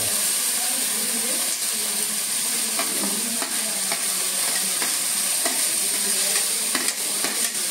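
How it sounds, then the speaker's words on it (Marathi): Finely chopped onion dropped into hot oil for tempering crackles and sizzles in a steady, dense hiss, with scattered sharp pops and light stirring scrapes throughout. "त्यातला कांदा हा आपल्याला फोडणीला टाकायचा आहे"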